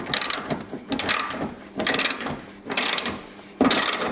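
A hand ratchet with a 19 mm socket tightens a bolt on a five-point harness install, giving close, loud bursts of rapid clicking in four or five quick strokes.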